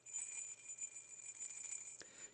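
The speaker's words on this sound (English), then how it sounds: "You ring it. There's a bell in here." A small bell fitted inside a wine goblet rings with a thin, steady high tinkle throughout, quiet and alone, with one slight knock near the end.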